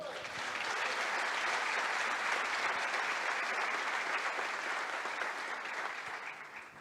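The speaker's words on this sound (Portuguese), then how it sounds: "Você pode aplaudir o Senhor?" A church congregation applauds during a sermon, a broad sustained wash of clapping from many people that swells quickly, holds steady for several seconds and then begins to fade.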